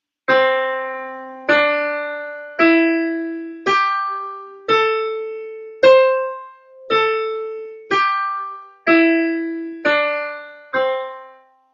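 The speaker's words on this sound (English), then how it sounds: "I have to show you what the pentatonic scale is." Eleven notes of a pentatonic scale are struck on piano one after another at an even, unhurried pace, each ringing briefly and decaying before the next.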